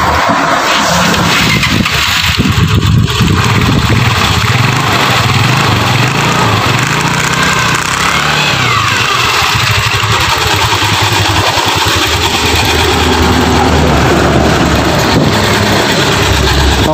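A Yamaha Mio Sporty scooter with a rough-sounding gearbox is revved hard and held, a loud, continuous raspy engine roar up close with grinding mechanical noise underneath.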